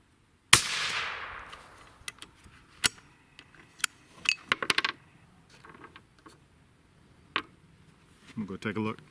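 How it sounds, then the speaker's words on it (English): A rifle fired through a Bering Optics Hogster thermal riflescope goes off once, sharp and loud, then a few faint clicks and handling knocks follow in quiet outdoor air. "So let's take another shot and see where it impacts relative to the 3-shot group."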